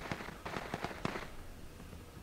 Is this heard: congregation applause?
no